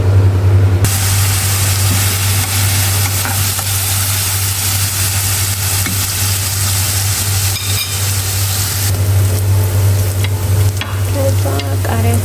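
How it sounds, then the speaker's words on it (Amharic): A pot holding a chicken with salt, cinnamon and garlic bubbles steadily, a loud, continuous close hiss and rumble with a constant low hum beneath it, and no voices. "ያው እዚህ ጋር አንድ ዶሮ እየቀቀልኩ ነው።"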